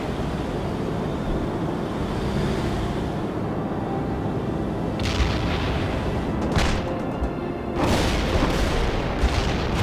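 Incoming artillery in a war video game booms over a dense, continuous battle rumble, with several sharp blasts bursting out in the later seconds.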